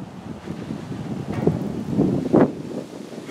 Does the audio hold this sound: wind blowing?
yes